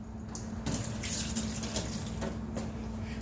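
Tap water rinsing a removable part of a Ninja Foodi multicooker under a kitchen faucet, a steady close hiss and splash with the flow shifting slightly as the part moves beneath the stream.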